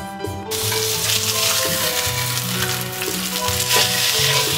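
Yellowtail fish pan frying in a pan, giving a steady, loud sizzle and crackle close up that runs continuously from the start, with no voices.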